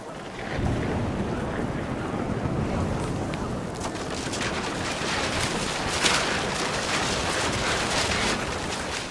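Stormy outdoor ambience in the video game What Remains of Edith Finch, a loud continuous rushing wind with heavy rain noise and swelling gusts that build partway through, no voices.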